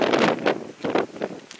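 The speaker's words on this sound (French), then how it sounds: "Désolé pour le vent, ça souffle beaucoup ici." Strong gusty wind buffets the microphone outdoors, where Renault Trafic vans are parked, in loud, rough bursts that rise and fall with no one speaking.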